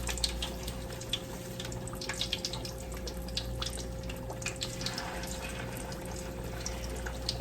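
Peach and apple pies browning in hot oil in a pan, a continuous close sizzle with scattered sharp pops and spatters, steady in level from start to finish.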